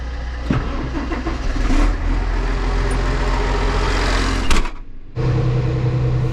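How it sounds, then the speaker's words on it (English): An 8050 tractor engine fires up and runs loud and close with a steady rumbling drone, a brief surge near the end, then a short drop before it settles into a lower idle. "Let's go ahead and fire the 8050 up"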